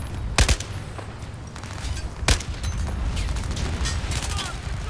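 Gunfire in the Battlefield 4 single-player campaign, two sharp loud shots followed by a rolling stretch of rapid distant fire and mechanical clatter, with faint voices underneath.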